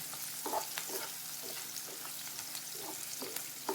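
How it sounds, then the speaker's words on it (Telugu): Sliced onions frying in a pan for a spinach fry, a steady close sizzle broken by brief scraping stirs. "ఇలా యాడ్ చేసుకొని ఉల్లిపాయలని బాగా ఫ్రై చేసుకోవాలండి"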